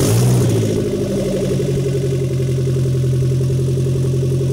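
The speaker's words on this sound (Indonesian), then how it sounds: "kita starter dan kita cek apakah ada kebocoran pada las-lasan atau koneksi header dari flank" A Daihatsu Xenia engine fitted with a new custom exhaust header runs close by at a steady idle, its loud, even low drone with a faint rhythmic pulse continuing unbroken throughout after an initial slightly higher rev.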